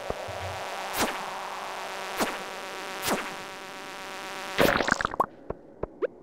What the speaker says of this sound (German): Da kommt schon so ein hässliches Fliegenvieh an hier.